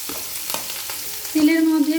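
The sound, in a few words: chopped onions frying and being stirred in hot oil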